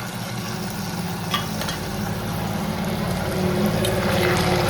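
Potatoes, onion, tomato and chili cooking in oil for a Kathiyawadi-style Gujarati potato-onion curry, making a continuous close sizzle with faint stirring scrapes and no talk.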